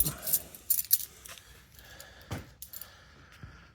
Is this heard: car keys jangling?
yes